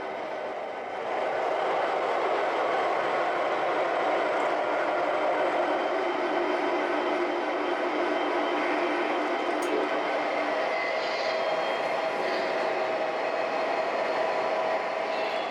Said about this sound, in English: I'll use the same Norfolk Western Trainmaster to pull these cars out and couple them to the